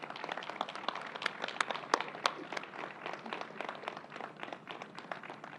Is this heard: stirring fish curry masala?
no